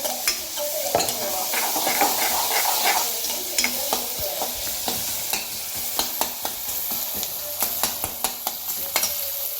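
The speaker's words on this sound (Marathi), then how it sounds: "ते आता हलवून घेऊया लाल होईपर्यंत मस्त लाल होऊन द्यायचा कांदा" Onion for a garlic fenugreek leaf dish sizzles steadily in a hot pan while a spoon scrapes and knocks through it in repeated clear strokes, close and alone.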